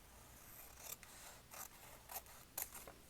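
Scissors snip through taped paper in a journal, several short crisp cuts spaced about half a second apart, quiet and close with no talking.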